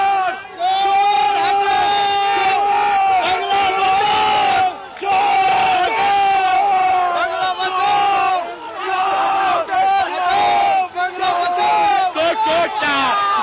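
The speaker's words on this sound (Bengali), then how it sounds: "একে অপরকে লক্ষ্য করে স্লোগান দিচ্ছে" Rival political crowds chant slogans outside the district magistrate's office in Alipur during Lok Sabha election nominations. Loud rhythmic group shouting repeats in waves, with many voices close by and barely a pause.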